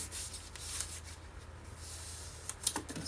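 Scrapbooking paper being folded into an accordion pleat for a compact wallet, giving soft close rubbing and crinkling with a few sharper crisp creases near the end, quiet and without speech.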